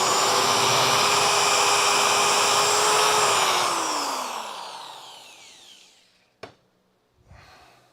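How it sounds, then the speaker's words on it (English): Spot welder at work on a car body panel during restoration of a crew cab Charger, a loud steady buzzing hum that holds for about three seconds, then fades and drops in pitch, followed by a sharp click and a brief rustle. "let's get at it with the spot welder again"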